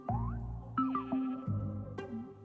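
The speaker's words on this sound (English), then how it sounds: "I mean, there's a lot of sheep over there" Sheep in a video game give several short, nasal bleats in quick succession, clear and close over a quiet background.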